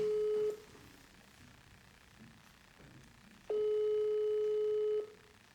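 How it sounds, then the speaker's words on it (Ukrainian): Telephone ringback tone heard over speakerphone during an outgoing call, two long steady tone bursts separated by a few seconds of quiet line hiss. "Дзвонимо, е, телефонуємо Олені Володимирівні."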